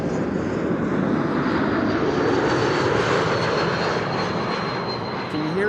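An arriving KLM jet with geared turbofan engines approaches at Amsterdam Schiphol, a loud, steady roaring engine wash with a faint high whistle riding over it, and no voices.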